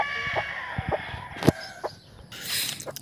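Newly hatched Raptor/Boston gamefowl chicks give a few short, scattered peeps over about three seconds, close by, with a steady background hum and no talking.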